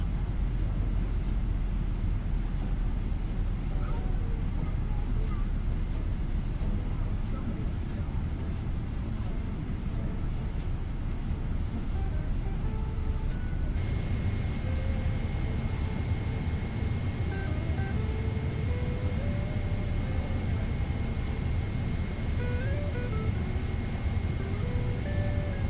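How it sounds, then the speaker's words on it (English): Airliner jet engine in Microsoft Flight Simulator on a PMDG 777, a steady broadband roar and hum throughout, with a faint tonal whine joining partway and holding, no talk over it. "We hear the engine starting to roll back."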